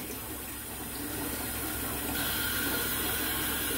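A toilet is flushed with a plastic bag taped airtight over the bowl, producing a steady rushing flush of water that swells slightly louder partway through, close and without talk.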